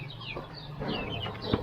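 Chickens cluck softly on a small farm, a few scattered low calls rising over steady background noise, with a sharper sound near the end.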